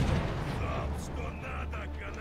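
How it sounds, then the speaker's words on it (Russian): A heavy cannon volley booms in a naval or tank battle video game, a deep low rumble with a burst of blast noise followed by lingering rumble and faint higher effects. "Залп, что надо, канонир."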